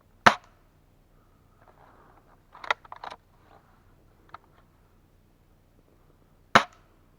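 A semi-auto sniper rifle fires outdoors, one sharp crack opening the clip and another near the end, separated by faint scattered clicks and handling noises, with no talk.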